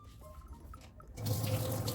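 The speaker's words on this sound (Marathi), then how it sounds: "हे भिजलेले शेंगदाणे आता स्वच्छ पाण्याने आपण धुवून घेऊ" Soaked peanuts being washed under running water, a quiet trickle and a few drips before the flow strengthens into a fuller, steady rush of water near the sink.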